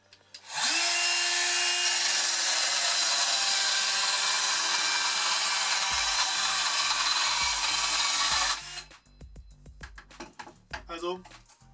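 A Bosch GKS 12V 26 cordless circular saw rips freehand through wood in one loud, steady whining cut lasting about eight seconds, then spins down with light knocks and handling noise afterward.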